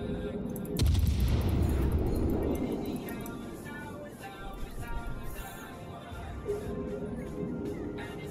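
Heavy naval gunfire in the World of Warships game from a Hindenburg cruiser: a loud booming salvo early on that rolls and decays over several seconds, then a second, fainter blast, over continuous game ambience.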